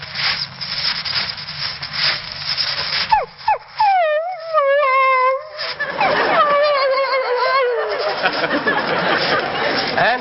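A man imitates a dog whimpering at being left behind, producing a run of rising and falling whines and yelps that grow into a long, wavering howl-like cry, loud and close, with noisy chatter before it.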